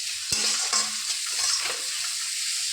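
Chopped onions with salt sauté in a hot pan for a short stretch, a bright sizzle broken by a sharp utensil knock and scraping stirs.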